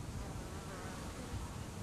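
A bee buzzes inside a hawthorn flower, a close, steady droning hum that holds throughout without a pause.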